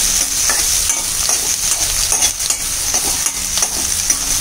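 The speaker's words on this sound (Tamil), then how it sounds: "வெங்காயம் லைட்டாக வதங்கின உடனே தக்காளி போடணும்" Onions and tomatoes sautéing in a pan, with a steady broadband sizzle of frying and repeated scraping stir strokes throughout, close and fairly loud, no talking.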